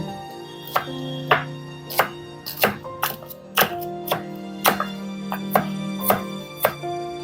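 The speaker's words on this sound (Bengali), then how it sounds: "কাঁচা লঙ্কা খুব মিহি করে কুচিয়ে নেব" A knife finely chops green chillies on a board, making sharp, distinct taps at an uneven, roughly steady pace of about two per second. The taps are close and clear over a faint background hum.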